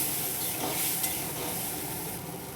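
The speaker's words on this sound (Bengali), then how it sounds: "এবার ভালো করে মশলাটাকে কষিয়ে নেব।" Spice paste of chilli powder and turmeric with a splash of water sautéing in a pan for a Bengali fish curry, a steady close sizzle with faint stirring scrapes, no voices.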